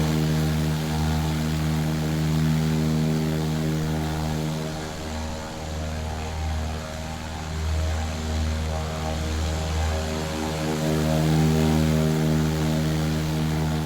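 A Diamond DA40 single-engine propeller plane in Microsoft Flight Simulator drones steadily, a loud, even engine hum with strong low harmonic tones and slight shifts in pitch and intensity, heard alone without voices.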